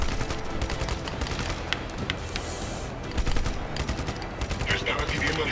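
Rapid gunfire bursts and scattered shots from the video game Just Cause 3, a dense, continuous clatter of weapon fire with impacts throughout, fairly loud and steady, with faint speech mixed in.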